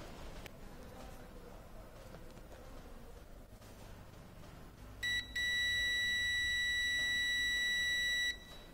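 A multimeter gives a continuity-test beep while car hazard and turn signal wiring is being checked, a steady, clear high-pitched tone lasting about three seconds over faint background noise.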